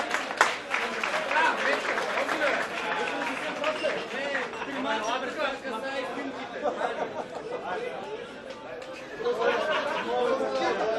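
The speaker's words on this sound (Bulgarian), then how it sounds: "аплодисменти" Scattered clapping rises from an audience at an English Sunday league awards ceremony as a second-place team is honoured, mixed with constant crowd chatter and nearby voices talking.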